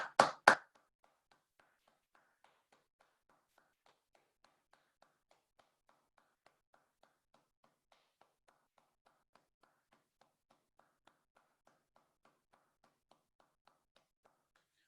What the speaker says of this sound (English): So if we just take a 30 seconds or so to applaud them.